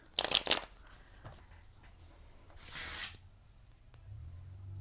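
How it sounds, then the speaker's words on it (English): Tarot cards being shuffled by hand, a short crisp riffle burst up close, then quieter soft shuffling and a second brief flurry, followed by a low background hum. "let me just shuffle a couple more"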